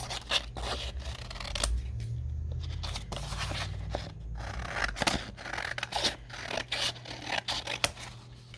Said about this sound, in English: So when I do it like this, I just trim off the edges.